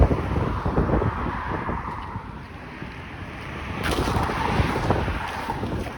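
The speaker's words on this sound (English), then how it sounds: "It's a little windy" Strong wind buffets the microphone in a continuous rumbling roar, rising in gusts, on a winter street at about -7 degrees, with no voices.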